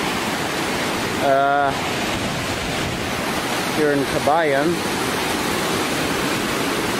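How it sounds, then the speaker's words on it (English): A river crossing on the trail up Mt. Pulag near Kabayan, its flowing water a constant loud broadband rush throughout, with someone speaking briefly over it twice. "we are about to cross the river now."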